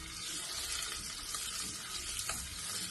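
Dates frying in oil for a lemon and dates pickle give a soft, continuous sizzle with faint crackles, quiet and unbroken.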